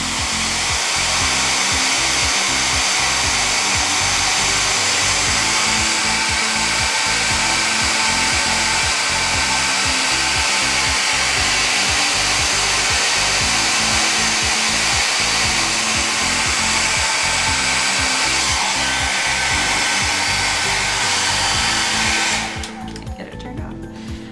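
A hair dryer blows continuously and loudly up close, drying chalk paste on a craft transfer, a steady rushing whir that cuts off near the end.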